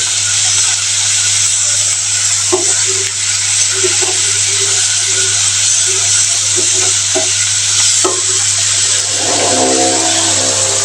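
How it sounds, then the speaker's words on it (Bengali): Garlic, ginger and onion paste frying in a pan, a loud continuous sizzle with intermittent stirring scrapes and clicks, a low steady hum beneath, no talking. "এই যে রসুন আদা পেঁয়াজ বাটা তো এটা আমি দিয়ে দিব এটাকে ভালো করে কষিয়ে নিতে হবে"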